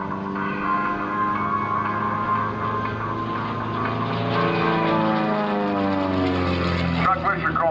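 Droning aerobatic propeller airplane engine, rising and falling in pitch as it flies a loop with a snap roll overhead at an air show, with someone talking over it.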